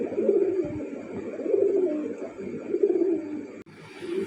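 Pigeons at a pigeon farm coo in soft, throaty, repeated phrases close by, one after another, over a quiet background.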